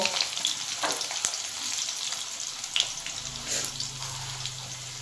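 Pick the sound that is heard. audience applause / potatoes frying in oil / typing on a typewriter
potatoes frying in oil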